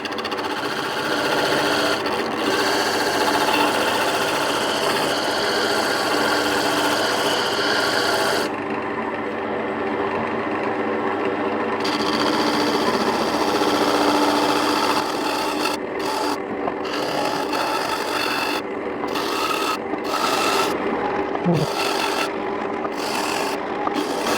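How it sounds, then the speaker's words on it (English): A lathe runs steadily while a 50-year-old trophy is worked on, giving a continuous loud whirring drone with rasping, rubbing texture and small interruptions, close and alone without speech. "turning the lathe on, and gently"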